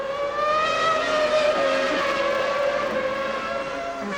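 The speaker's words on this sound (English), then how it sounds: "Berger squeezing past Frentzen into 10th place, but Frentzen straight back through, forcing his way inside Irvine's Ferrari" Formula 1 cars from the 1997 season race past, their high engines wailing in sustained rising and falling tones at a steady distance.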